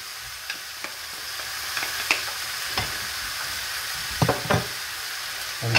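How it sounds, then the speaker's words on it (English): Chicken breast, courgettes and other vegetables frying in a pan with garlic added. A steady close sizzle carries scattered clicks and scrapes from stirring, with no voices. "and fry another 2-3 minutes. After 2 minutes, add the garlic."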